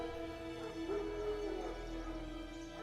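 Wild dogs in The Witcher video game bark and whimper through a steady bed of game music and ambience, the canine calls moderately close but partly blended into the score.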